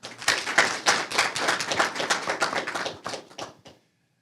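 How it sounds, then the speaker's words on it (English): Audience applause for a panel and moderator at a marketing speaker-series event: a dense, steady burst of many hands clapping that fades and stops abruptly near the end. "Let's give our panel and our moderator one more round of applause."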